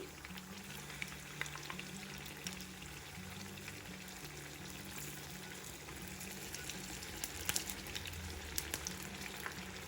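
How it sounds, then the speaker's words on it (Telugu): Wheat flour sweets deep-frying in oil and turning brown on both sides, giving a dense, steady bubbling sizzle with small pops throughout, close and continuous with no talking. "మనకి ఇప్పుడు రెండు వైపులా కూడా ఎర్రగా వేగాలి"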